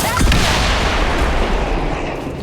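Loud, sustained blast and rumble from an explosion in the XCOM 2 strategy video game, a broad roaring burst with crackling debris that fills the whole stretch without pause.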